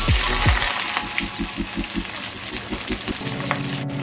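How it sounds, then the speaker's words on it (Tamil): Onions tipped into hot oil with whole cardamom, fennel and bay leaf for chicken biryani, a loud, dense, steady frying hiss with the thud of the onions landing and a few stirring knocks. "இப்போ வெங்காயம் சேர்த்துக்கலாம்."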